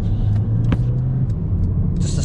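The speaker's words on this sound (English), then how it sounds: "Just the sound of this car." Engine of a Mercedes A180 with a 1.3 turbo while driving, a low steady rumble close by from inside the cabin, with a few brief clicks and a hiss rising near the end.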